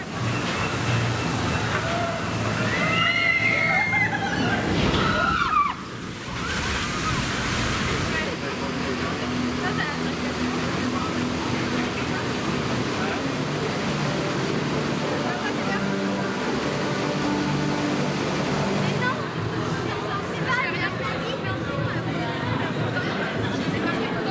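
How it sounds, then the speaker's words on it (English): Onboard the Mack water coaster Poseidon, a steady wash of rushing water and splashing surf-like noise fills the ride, with riders' voices and chatter mixed in throughout. "Here we are then on board the Mack water coaster, Poseidon."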